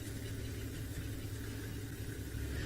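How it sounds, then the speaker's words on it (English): Safari vehicles idle and rumble in the background during a South African wildlife drive, a steady low engine drone with no talking. "Now you'll hear some other cars in the background."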